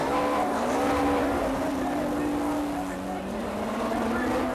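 British Touring Car Championship cars from 1993 launching off the start grid at Oulton Park, a dense pack of engines rising in pitch together, loud and steady, under a commentator's voice.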